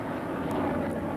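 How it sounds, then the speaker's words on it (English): A fixed-wing submarine-hunting aircraft drones steadily overhead, a broad continuous engine roar holding even and fairly loud throughout, with no voices. "For longer ranged operations, fixed-wing aircraft are used."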